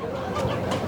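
Chickens cluck close by at a market selling birds for the Ethiopian Easter holiday, a few short clucks over busy background noise.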